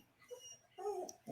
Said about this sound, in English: if you hear dog sounds in the background